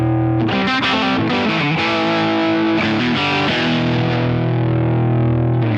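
A high-gain distorted electric guitar rings out through a Line 6 Spider Classic 15 amp, thick sustained chords with heavy saturation, loud and close with no voice.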